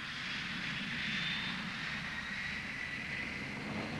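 An aeroplane in flight gives a steady, broad engine roar at moderate distance, constant throughout with no voices.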